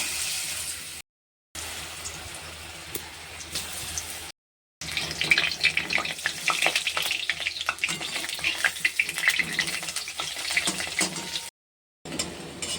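Pieces of green plantain frying in oil make a close, crackling sizzle that swells and spits busily in the middle stretch, broken by a few short silent gaps.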